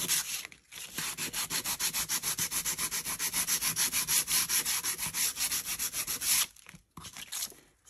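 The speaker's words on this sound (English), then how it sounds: "you could take a bit more paint off by sanding" Rapid back-and-forth rubbing of sandpaper on painted paper, a steady scratchy rhythm of quick strokes that pauses briefly near the end, then resumes.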